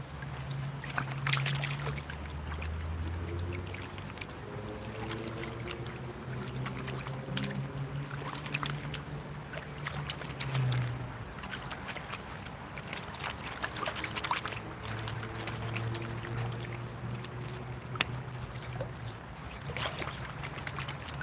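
Water sloshes and trickles in a small gold pan worked without a classifier, with big rocks pulled out by hand; a steady outdoor wash of moving water continues throughout.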